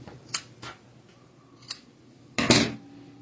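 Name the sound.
scissors cutting excess knitting yarn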